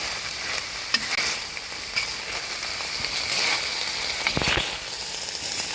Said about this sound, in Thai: เดี๋ยวก็ค่อยๆผัดพอเริ่มผุดๆแล้วค่อยๆผัด